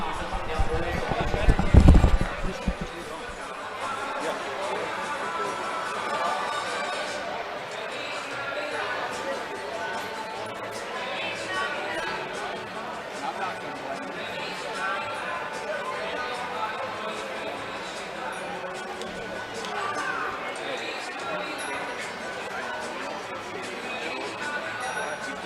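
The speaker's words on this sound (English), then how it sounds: "we'll leave the ambient mic on so that they can listen to the crowd" Crowd murmur and chatter fill an indoor soccer arena during a Wichita Wings versus Amarillo Bombers game, a steady distant wash of voices heard through an ambient mic after a brief burst of louder thumps at the start.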